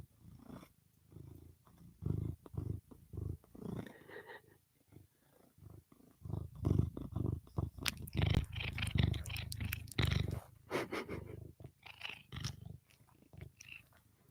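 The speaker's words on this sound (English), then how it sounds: "She's purring so hard." A cat purrs close to the microphone in rhythmic rumbling pulses, with soft rustling and handling noises over it.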